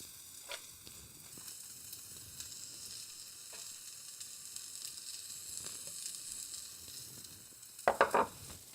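Curry paste sizzles steadily in a pan for a vegan dish, with faint spoon scrapes and a brief cluster of louder clinks as it is stirred near the end.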